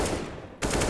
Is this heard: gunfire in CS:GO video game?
yes